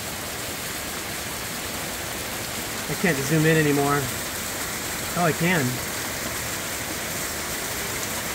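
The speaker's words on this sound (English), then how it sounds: "Yeah, it's still hailing." Torrential rain and hail pound down during a thunderstorm in Van Nuys, California, a dense, constant roar of falling water filling the scene while someone talks briefly over it.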